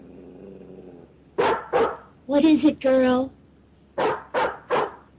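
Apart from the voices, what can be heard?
dog barking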